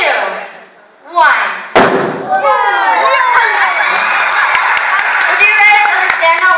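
A hydrogen balloon laced with strontium chloride ignites in a single sudden bang outdoors, followed at once by a crowd of children cheering, shouting and clapping for several seconds.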